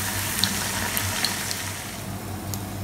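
Chicken pieces fry in hot oil on a first fry for crispy Kolkata Chinatown-style chicken, giving a steady close sizzle and bubbling with occasional sharp pops, and no one speaks.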